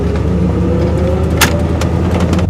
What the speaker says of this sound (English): The engine is like so smooth.